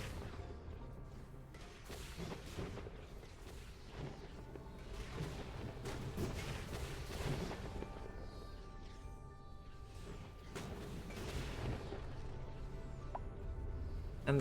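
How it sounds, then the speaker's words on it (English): Meteor shower impacts in Oxygen Not Included come as a steady run of dull, rumbling thuds and crashes over a continuous droning hum, with no single impact standing out. "And this is a long meteor shower."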